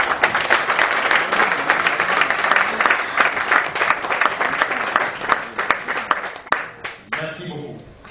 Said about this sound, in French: notre ami, l'honorable Jean-Bertrand Ewanga, que je voudrais que vous puissiez applaudir maintenant.